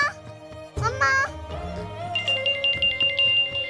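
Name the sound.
mobile phone ringtone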